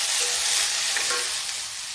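Ridge gourd chikla and potato pieces sizzle steadily in a hot pan, a continuous bright frying hiss with faint stirring scrapes, close and alone.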